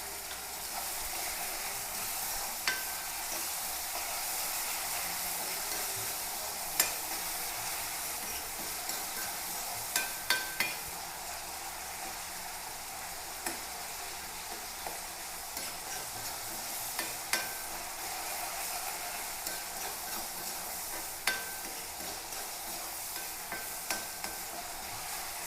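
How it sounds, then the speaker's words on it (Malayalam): Crushed onion, garlic and green chili fry in oil for a fish curry, a quiet steady sizzle with occasional light clicks and taps of a stirring spoon against the pan. "അപ്പോൾ ഉള്ളിയും വെളുത്തുള്ളിയും പച്ചമുളകും ഒന്ന് ചതച്ചതാണ് ഇട്ട് കൊടുക്കാം"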